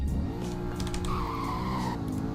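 A car in the Roblox game Greenville accelerates during a speed test, with a loud, steady engine drone and rising tonal whine, alongside a squealing tire-like sound.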